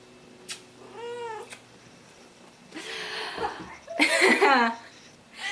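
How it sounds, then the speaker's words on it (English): A cat meows twice, a short call early and a longer one later, while a person talks softly and chuckles nearby. "She might meow in the background a little bit."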